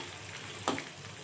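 Bay leaf and spices sauté in hot oil for chana masala, a steady close sizzle with one brief louder scrape of stirring partway through.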